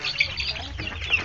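Chicks chirping outdoors while sunning in warm weather, several close, high peeping calls overlapping in quick bursts.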